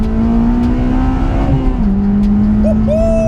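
Honda Civic FD2 Type R with a K20A engine revving hard on a country road, a loud, steady engine drone that holds high then steps down as the gear changes, heard from inside the car with no talking.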